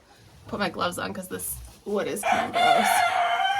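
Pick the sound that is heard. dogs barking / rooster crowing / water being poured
rooster crowing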